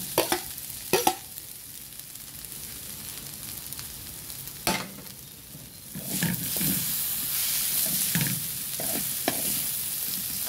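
Chicken pieces fry in a pan for arroz caldo, with a few sharp clattering stirs at first, then a steady, louder sizzle and hiss that swells partway through, broken by occasional scraping of the utensil. No talking.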